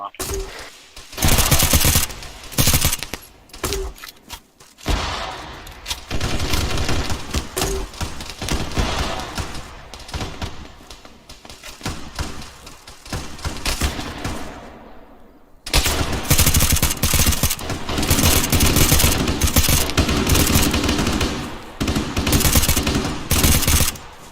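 Sustained suppressive gunfire in the Roblox game Halo Combat East Wind, with long loud bursts of rapid automatic shots and brief pauses between them, and players talking over the fire.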